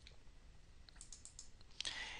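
Typing on a computer keyboard, a short run of quiet, quick key clicks ending in a louder burst, close and faint with no talk.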